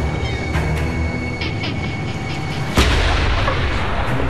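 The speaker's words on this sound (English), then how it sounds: "It's a military salute for Canada Day." An artillery gun fires a military salute for Canada Day across water: a low, rumbling background gives way to one sudden, heavy boom whose loud roar lingers afterward.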